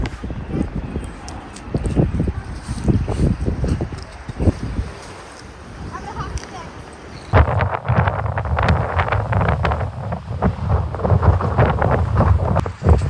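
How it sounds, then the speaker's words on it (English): Strong gusts of coastal wind at Point Reyes buffet the microphone in a heavy, roaring rumble, with a person talking over it early on. "It's extremely windy in this area."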